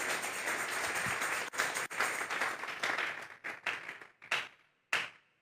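A congregation claps together in a church service, the applause offered as praise to God, a dense wash of hand claps that breaks into a few separate bursts and scattered final claps toward the end.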